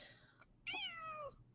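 A cat gives two meows close by, a short quiet one and then a longer, louder one that falls in pitch, against a quiet room.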